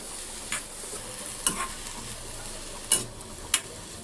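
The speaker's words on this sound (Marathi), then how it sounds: "तीन 4 मिनटं याला असंच परतून घ्यायचं." Onion and vegetables sauté in a pan for white sauce pasta, giving a steady soft sizzle broken by four or five sharp scraping stirs of a spatula, close and fairly quiet.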